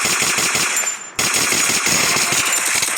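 Rapid automatic gunfire in the Free Fire game rattles loudly and continuously, broken by one short gap before the bursts resume.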